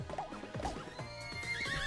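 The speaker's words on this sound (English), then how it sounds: "Horse." A horse in Miitopia on Switch whinnies in several rising and falling neighs, fairly faint and alone, with a bright shimmering tone near the end.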